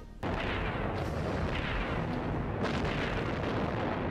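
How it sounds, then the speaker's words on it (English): A continuous, dense roar of old World War II-style movie explosion effects and booming blasts in an animated Titanic film, loud and sustained, with rumbling bursts swelling near the start and again later. "Don't you love the old-ass World War II sound effects for explosions in this fucking movie?"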